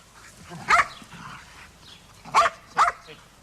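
A dog barks three times from close by, sharp single barks with pauses between them over a quiet indoor background.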